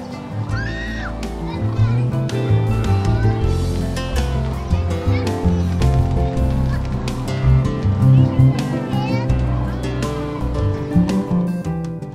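A flock of migratory geese honks and calls continuously in Israel's Hula Valley, mixed with children's voices chattering nearby over a busy outdoor background.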